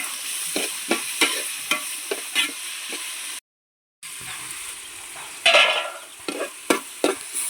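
Three tomatoes sautéing in a pan while a chicken curry is being made, a steady frying hiss broken by repeated stirring scrapes and taps, a short silent gap midway, then more clattering stirring; no talk.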